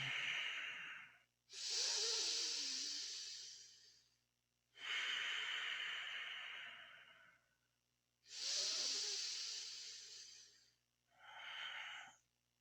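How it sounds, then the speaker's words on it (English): Long, deep breaths during a Kundalini yoga back-strengthening exercise, close and quiet: slow airy inhales and exhales alternate in about five drawn-out cycles separated by short pauses. "You can do long, deep breathing."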